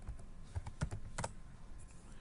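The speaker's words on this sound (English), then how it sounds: "And we're just going to type in animals." A computer keyboard tapped in a short quiet burst of keystrokes while typing a search, a few clustered clicks then stillness, no talk.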